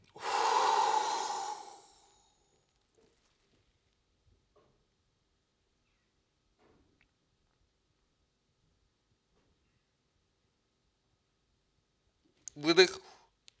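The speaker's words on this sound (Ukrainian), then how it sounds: "Видих, вдих. Видих знову вакуум." A long, breathy exhale of about two seconds during a vacuum breathing exercise for hyperlordosis, followed by near silence and then a short, sharp inhale close to the microphone.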